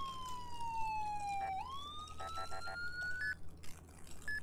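Police siren in the ER:LC video game wailing at a moderate distance, its tone sliding down and then sweeping back up, with short bursts of yelp chirps partway through and near the end.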